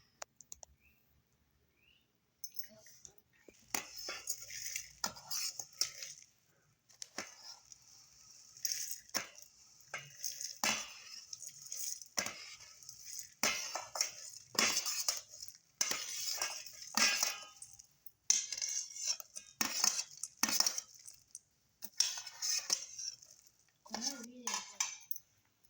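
A spoon stirs aval (poha) mixture snack ingredients in a bowl, producing quiet, irregular clinks and scrapes against the bowl in repeated bursts, with no talking.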